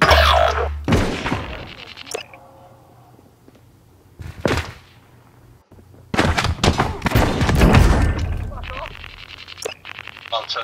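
Gunshots and bursts of fire crack in a Call of Duty Warzone Rebirth match, coming in clustered volleys with quieter gaps, while players talk over the action.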